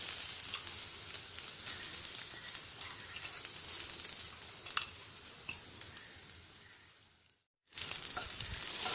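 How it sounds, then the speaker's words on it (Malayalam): Grated coconut with green chilli, ginger, fennel seed and cinnamon roasting in coconut oil, a steady close sizzle with occasional stirring scrapes, briefly cut to silence before the frying hiss resumes. "ഈ തേങ്ങ, അതുപോലെ തന്നെ ഈ പച്ചമുളക്, ഇഞ്ചി, പെരുംജീരകം, കറുവപ്പട്ട, ഇതെല്ലാം ഒന്ന് ജസ്റ്റ് ഒന്ന് വറുത്തെടുക്കണം."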